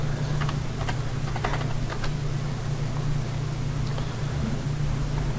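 Keys tapped on a computer keyboard while working in Revit: a few scattered light clicks in short bursts early on, faint over a steady low electrical hum, with no talking.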